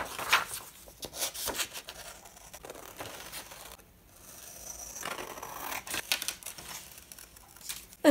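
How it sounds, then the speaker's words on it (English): Paper is scored and cut with a tool to free an envelope shape, heard as quiet, close scraping, snipping and crinkling in irregular bursts with short pauses. "take a scoring tool and just score in the slits. That's it. Cut out the envelope."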